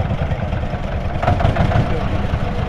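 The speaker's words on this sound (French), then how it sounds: "Laissez passer les tracteurs" Tractors rumbling past at a village fête in Auvergne, France: a steady low diesel engine drone, fairly close and continuous, with crowd noise in the background.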